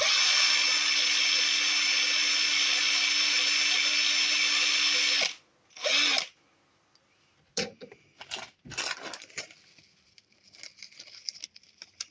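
A tiny 0.5 mm drill bit bores into an antique Hohner pre-war Marine Band diatonic harmonica, a steady high whining drill run for about five seconds, then a short second burst and scattered small handling clicks and taps.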